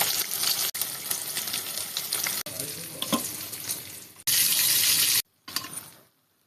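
Fish pieces fry in hot oil in a pan, a loud continuous close sizzle with occasional utensil clinks and a few abrupt cuts and a brief silence.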